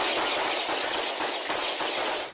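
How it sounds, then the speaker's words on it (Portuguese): Rapid gunfire from police shooting at attack drones during an air raid on civilian buildings, a dense, continuous burst of cracking shots with slight pulsing, loud and steady for about two seconds before cutting off. "os tiros dos policiais, que desesperadamente tentavam impedir os ataques a prédios civis"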